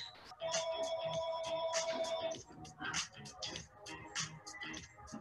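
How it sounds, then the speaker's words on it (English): A mobile phone ringtone chimes as a clear, repeating electronic melody, loud and close for about two seconds, then gives way to scattered ticking and clattering handling noises. "Oh, my phone's ringing."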